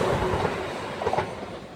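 A South Western Railway class 444 train runs into a station platform, its wheels clattering in a steady rumble with rhythmic clicks that swell as it comes close.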